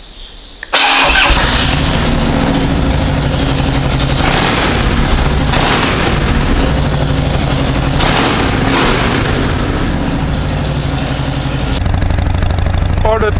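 Motorcycle engine starting up with a sudden loud catch, then settling into a steady, rough idle that runs on close by, rising slightly near the end.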